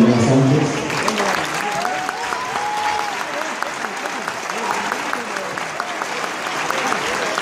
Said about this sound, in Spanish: Un aplauso especial por favor a todos los niños,